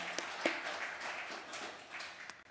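Applause from a church congregation during a Sunday service, a soft steady patter of clapping that sounds distant and fairly quiet, lasting a couple of seconds.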